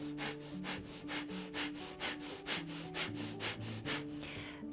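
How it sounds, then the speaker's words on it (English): Breath of fire: quick, even, rhythmic nasal inhales and exhales of equal length, about a dozen sharp breathy puffs in a steady pulse, close to the mic and faint, with no talking. "breath of fire are even inhale and exhales through the nose"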